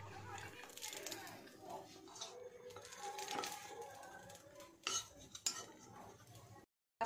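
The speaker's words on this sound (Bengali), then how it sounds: "নারকেলটা ভালো করে পাক দিয়ে নিই।" Grated coconut stirred in a pan with a utensil, giving soft scraping and clinking against the metal, steady then a couple of sharper knocks near the end, with faint background sounds.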